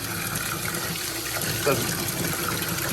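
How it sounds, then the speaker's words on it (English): Warm tap water runs steadily into a turtle tub, a continuous splashing gush that stays even throughout, with a brief louder splash near the end. "So I'll fill this up with warm water."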